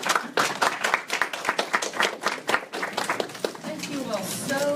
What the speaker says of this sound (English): So please let's give her a round of applause.